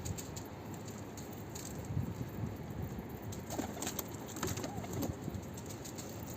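Pigeons coo softly in a loft, with a low, continuous murmuring of calls, occasional wing flutters and faint rattling in the background.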